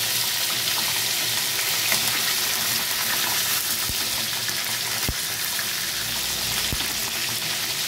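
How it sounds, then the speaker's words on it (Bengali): Fish heads frying in a pan for a Bengali bottle gourd curry, a steady dense hiss of hot oil throughout with a few faint clicks, no talking. "আমি এইভাবেই উল্টে পাল্টে ভালো করে মাছের মাথাগুলোকে ভেজে তারপর ফিরে আসছি।"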